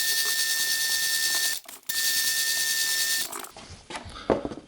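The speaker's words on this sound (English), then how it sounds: "we're going to drill out the centers for those" A drill boring out the centers of wooden pieces for a custom 3x3 router jig, a loud steady whine that cuts out briefly, resumes, then winds down into rattling and scraping.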